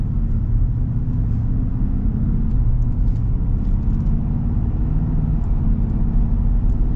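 A Ford V8 truck engine drones under way as a loud, steady low rumble from inside the cab, with a constant road-and-motor hum and no break.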